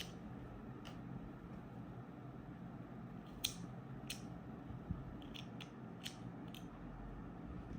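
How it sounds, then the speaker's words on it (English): Scissors snipping extra yarn on a crocheted flower coaster: a handful of faint, crisp snips and clicks spaced irregularly over quiet background hiss. "I wanted to cut this extra yarn,"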